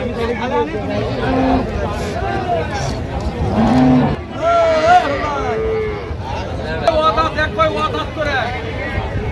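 Cows and calves moo at a rural cattle market in Dinajpur. Several loud, drawn-out moos stand out over a steady babble of crowd chatter and people talking close by.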